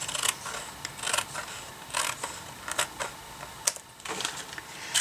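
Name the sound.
scissors trimming cardstock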